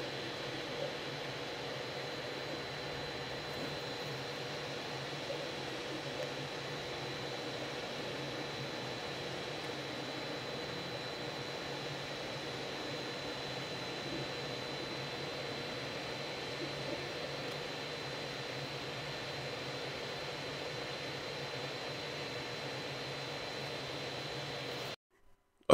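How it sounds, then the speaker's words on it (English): The cooling fans of a Longer LK5 Pro 3D printer whir steadily with an even, airy hum, unchanging and moderately quiet throughout, with no voices. "The only thing you hear are the fans really."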